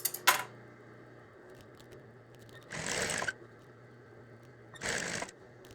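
A sewing machine stitches a thick seam on a hooded towel, sounding as two short, close bursts of running separated by quiet gaps, with a sharp click at the start.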